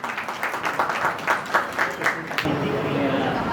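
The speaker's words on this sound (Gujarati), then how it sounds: "જોરદાર તાળીઓથી વધાવીએ મીરા માતાજી" Applause welcoming Meera Mataji at the first Samast Dodiya family gathering in Chotila, starting as scattered rhythmic claps over a speaking voice and swelling into steady, dense crowd clapping.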